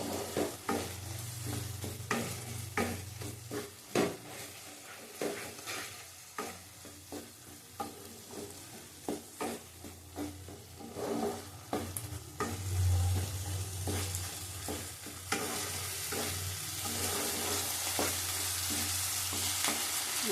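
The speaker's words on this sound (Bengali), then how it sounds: "ভালো করে কষাতে হবে নাহলে মশলার গন্ধ ছাড়বে" Thick spice paste with ground cashew and raisin sizzles in a pan while being stirred and scraped, a steady close frying hiss broken by repeated utensil strokes, with no talking.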